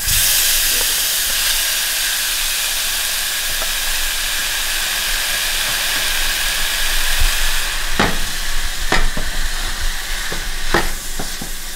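Ground turkey meat sizzles and hisses steadily in a hot pan, a loud continuous frying hiss with sharper spattering pops and crackles growing busier toward the end.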